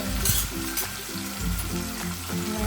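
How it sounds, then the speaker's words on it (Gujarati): Chopped vegetables hit hot tempering oil for sambar and sizzle loudly and steadily up close, with intermittent stirring scrapes and no voices. "હવે આ વઘારમાં જે આ બધા શાકભાજી લીધા છે એ નાખી દેવાના"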